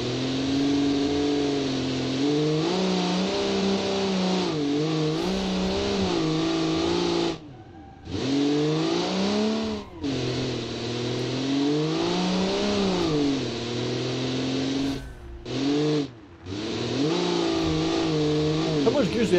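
A loud, rough car engine in the BeamNG driving game revs and climbs repeatedly through its gears, with sharp pitch sweeps and brief drops to near silence between pulls, while a person talks over it.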